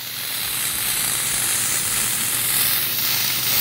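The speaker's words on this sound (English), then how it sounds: "I just spray it on there." Wonder Lace Bond adhesive spray hissing from a can onto a wig lace at the forehead, one continuous close, steady spray lasting a few seconds.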